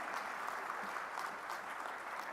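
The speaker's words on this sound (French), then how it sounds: "Je vous demande de l'applaudir très très fort" An audience at a Red Cross pan-African conference applauds in honour of a guest, a continuous, even patter of many hands clapping, somewhat distant and moderate in volume.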